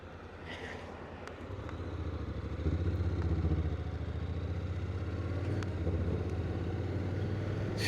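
A light motorbike engine hums and rises in pitch while riding, a steady close drone that swells after a couple of seconds, with faint clatter and no talk.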